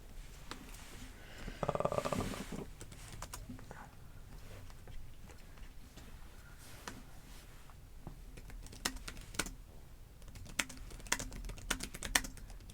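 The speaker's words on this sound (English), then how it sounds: "I like hearing the clacking of the keyboard." Clacking typing on a computer keyboard, close and fairly quiet, as an uneven stream of sharp key clicks. A brief murmured voice is heard near the start.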